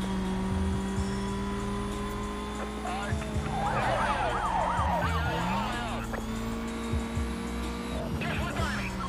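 A police siren wails in Need for Speed Most Wanted, its rising and falling tone sweeping several times over a steady car engine drone, fairly close and clear, with the engine hum continuing underneath throughout.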